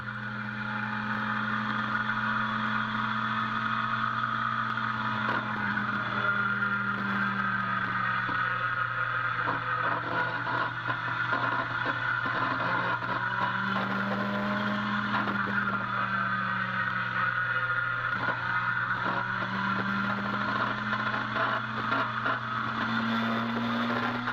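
Motorcycle engine on a race track heard from the rider's position, a steady loud drone with repeated rising and falling revs through gear changes and braking, wind noise over it.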